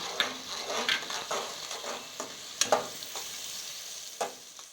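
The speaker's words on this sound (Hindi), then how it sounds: "अब हम लहसुन का पेस्ट डालेंगे और इसको 2 से 3 मिनट अच्छी तरह से भून लेंगे।" Garlic paste sizzling in a hot pan with occasional stirring scrapes and clinks, steady frying hiss throughout, close up, no voices.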